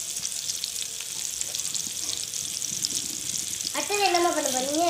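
Fish frying in hot oil in a Tamil kitchen for meen varuval, a steady close sizzle and crackle that runs throughout, then a voice breaks in near the end over the frying.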